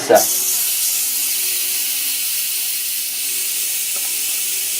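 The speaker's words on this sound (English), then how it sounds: "just let that steam roll on off" Loud, steady steam hiss from an Instant Pot pressure cooker release valve, a broad continuous rush that starts abruptly and holds without letup, with a faint tone underneath.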